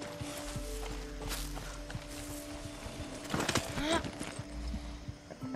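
A horse walks in the Far Cry 6 video game, with a steady clip-clop of hooves, moderately close, alongside faint game ambience and a brief mechanical chime.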